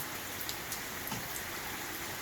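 Heavy rain pours outside in a thunderstorm, a constant wash of noise with occasional sharper drop patters standing out nearby; no one speaks.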